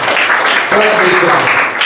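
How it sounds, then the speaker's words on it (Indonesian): Congregation applause during a Sunday church service, a dense steady wash of clapping lasting about two seconds, with a voice speaking over it partway through. "Tepuk tangan untuk Tuhan Yesus Kristus."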